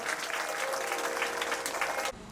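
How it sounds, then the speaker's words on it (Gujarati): An audience applauds at a Ram Katha religious gathering, many hands clapping in a steady, lively wash up close, with a faint voice underneath, before cutting off abruptly near the end. "જોરદાર તાળીઓથી સ્વાગત કરીએ"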